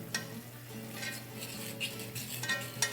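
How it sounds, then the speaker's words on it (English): Butter-flour mixture being stirred into chicken gravy in a cast iron pot, with soft scraping and faint clinks of a utensil over a low steady simmer, no voices. "we're going to start folding in this butter flour mixture"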